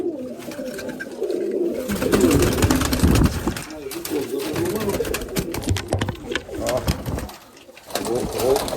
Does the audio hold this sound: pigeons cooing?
yes